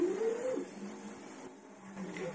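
A Flashforge Finder 3 3D printer's stepper motors whirring in a quiet room, a soft, sliding pitched whine rising and settling with small mechanical ticks, faint and steady.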